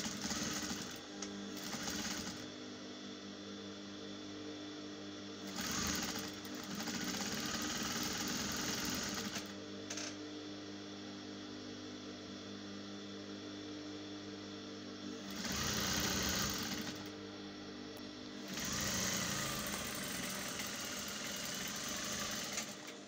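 A sewing machine stitches stretchy elastic jumpsuit fabric in bursts of steady mechanical whirring, running several seconds at a time with short pauses between runs.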